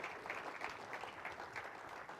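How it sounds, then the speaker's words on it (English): Audience applause at a military, defense and veterans summit, a sustained wash of many hands clapping from a crowd, even and unbroken throughout. "Let's give them a round of applause for pushing this."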